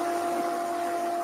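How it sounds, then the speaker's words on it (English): A wood lathe spinning while a dust extractor runs, turning a tea light candle holder, gives a steady, even motor drone with a sustained hum and tonal whine, unbroken and without talk. "I'm going to have the lathe running, dust extractor going."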